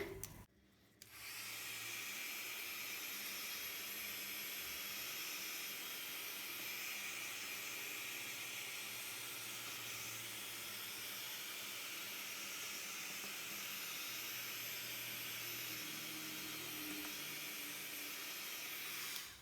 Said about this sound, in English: Let's use my heat gun again.